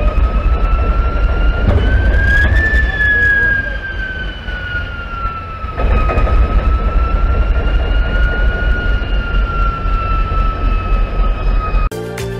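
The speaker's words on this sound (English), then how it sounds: "This diesel locomotive makes sounds like a jet engine while starting." A diesel locomotive spools up on starting with a loud, steady jet-engine-like whine over heavy low rumble, rising briefly in pitch then holding for several seconds close by.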